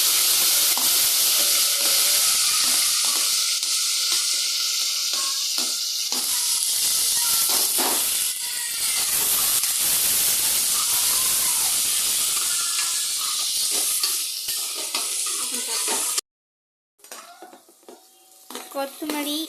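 Spices crackle and sizzle loudly in hot oil in a pan for a chicken gravy, a dense continuous frying hiss with stirring scrapes, cutting out briefly near the end before resuming more quietly.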